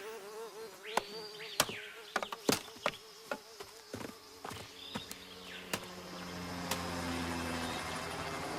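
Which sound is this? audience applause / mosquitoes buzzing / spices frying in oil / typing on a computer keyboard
mosquitoes buzzing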